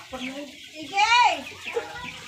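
Hens clucking up close, a clear rising cackle in the middle among softer clucks, with voices talking quietly in the background.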